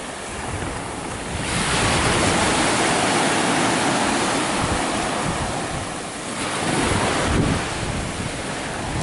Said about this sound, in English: Dude, the ocean.